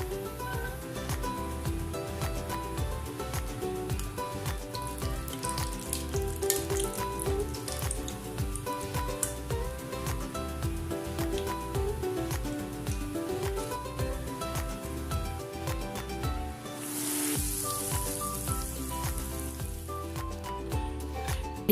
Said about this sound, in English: Fry them till get a nice golden color.